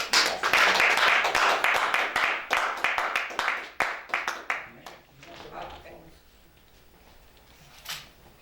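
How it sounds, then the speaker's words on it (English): An audience at a gathering applauds to welcome a speaker: loud, crisp clapping from many hands that thins into scattered claps and dies away after about five seconds, leaving a quiet room with one last faint clap. "let's receive with a warm round of applause, Sister Doreen Muhammad."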